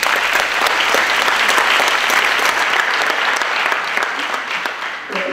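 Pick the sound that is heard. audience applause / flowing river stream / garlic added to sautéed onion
audience applause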